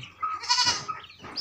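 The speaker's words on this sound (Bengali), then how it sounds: "ছাগল আছে।" A goat on a small Bangladeshi farm bleats once at dusk, a short wavering cry that is fairly close and clear over a quiet background.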